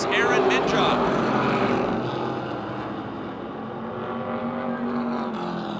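Race cars roar around the Motordrome Speedway oval in a loud, continuous pack, with engine drone staying strong throughout and a commentator talking over it.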